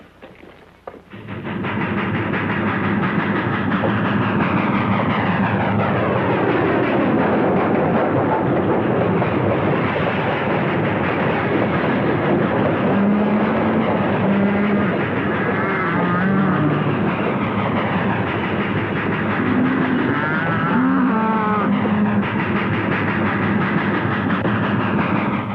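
A steam-era train rumbles steadily nearer along the rails for a long stretch, loud and continuous, with clanking wheels and brief whistle-like tones partway through.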